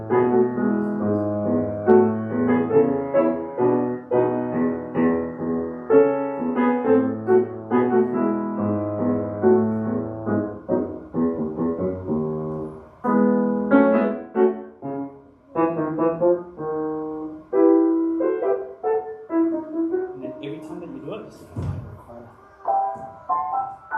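Solo piano playing a flowing melody with the left-hand tenor line brought out, legato phrases with clear sustained notes and short pauses between passages.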